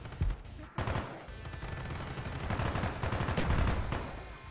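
Rapid gunfire from Call of Duty: Black Ops, with dense automatic bursts and blasts that run almost without a break, loud and close throughout.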